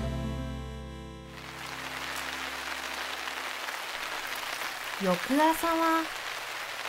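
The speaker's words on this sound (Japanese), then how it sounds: "あいにくの雨。" Steady rain falls over a mountain campsite on a wet morning, a dense continuous hiss throughout, with a voice speaking briefly near the end.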